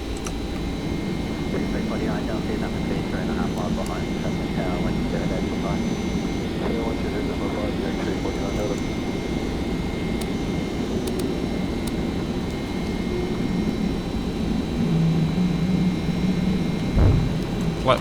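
Boeing 767 jet engines roar steadily as the airliner climbs after takeoff in a flight simulator game, a constant loud rumble that lasts throughout while someone talks over it.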